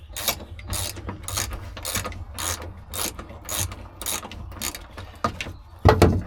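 A ratchet fitted with a 17 mm socket clicks in quick, even strokes as it turns a bolt close by, about a dozen evenly spaced bursts, ending with a louder knock.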